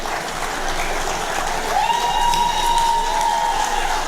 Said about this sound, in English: A very big round of applause for Antef.